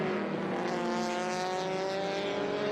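Vintage race cars, including a Datsun 240 and a BMW running side by side, roar past at Circuit of the Americas, their engines a loud, steady, overlapping drone of rising harmonic whine with no voices.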